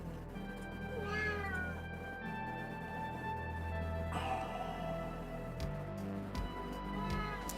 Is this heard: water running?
no